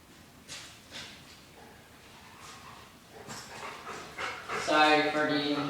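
A dog pants and whimpers close to the microphone, giving short breathy bursts and then higher whining yelps that get louder toward the end, with faint talk in the background.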